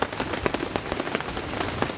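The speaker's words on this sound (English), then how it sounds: "I didn't think it was going to be torrential rain all night" Torrential rain pours down on a wild camp, dense and steady with constant pattering and drops striking a nearby surface, loud and close throughout with no voices.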